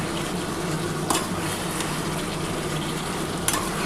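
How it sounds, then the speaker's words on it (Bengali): Eggs stirred through frying spice masala in a pan, a steady close sizzle with two sharp scrapes of the spoon against the pan. "এবার খুব ভালো করে মশলাটার সাথে একটুখানি নাড়াচাড়া করতে হবে।"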